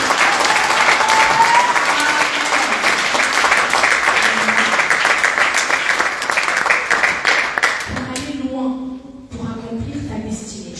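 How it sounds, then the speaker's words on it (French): Congregation applauding and cheering in a church, a sustained loud wash of clapping that fades after about eight seconds into a voice speaking over lighter clapping. "Est-ce qu'on peut acclamer pour notre Abigail?"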